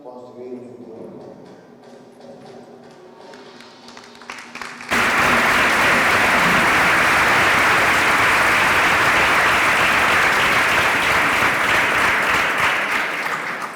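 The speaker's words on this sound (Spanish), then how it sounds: "Ese último aplauso claramente es para los jóvenes" Audience applause erupts at an education event after a stretch of speech, a dense, loud, steady clapping that fills the rest of the moment without letting up.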